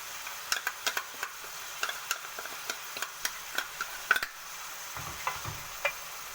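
Garlic frying and being stirred in a pan for Alexandrian-style street-cart liver, a steady close sizzle with repeated sharp scraping clicks of the spoon against the pan.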